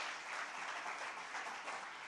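Steady applause from a church congregation, a dense wash of clapping that holds evenly for about two seconds with no voices on top.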